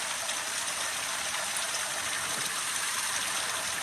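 Water flows and gushes from all around on a hillside in Basiyal after a landslide, a loud, unbroken rushing roar with no voices.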